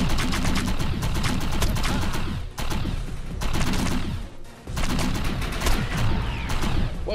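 Gunfire in the shooter game Defiance arrives in loud rapid bursts, with two short breaks between volleys.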